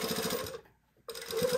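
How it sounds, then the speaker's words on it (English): A sewing machine runs in quick rhythmic bursts stitching knit tape along a seam, pausing briefly in the middle before resuming, close and moderately quiet. "I'm sewing just to the right of that seam line on the"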